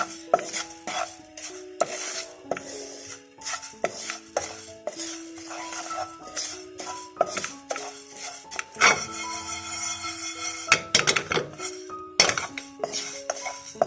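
Spices dry-roast in a pan for lemon pickle while a metal spoon scrapes and clinks against the pan in irregular bursts, with a brief bright rattle in the middle.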